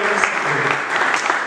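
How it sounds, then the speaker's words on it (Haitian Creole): Audience applause at an evangelical church gathering, a steady dense wash of clapping that fills the whole moment at even loudness, with faint voices mixed in. "Applaudissez, dernière prestation pour vous."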